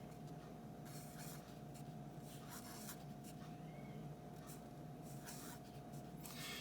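Marker or chalk strokes on a board scratch out a number sequence in short bursts over a steady background hum, close and fairly quiet, with no speech.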